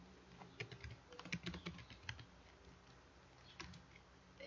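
Faint keystrokes on a computer keyboard come in quick, irregular bursts of clicks, then a brief pause and a few more taps, with no speech.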